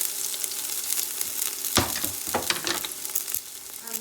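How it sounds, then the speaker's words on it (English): Red onions and peppers fry in a pot for chow mein, hissing and sizzling steadily up close, while a few scraping stirs rattle through the middle. "I'm just gonna give it a stir"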